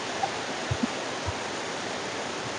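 Steady broadband rush of a waterfall heard close, continuous and even, with a few faint low thumps and no speech.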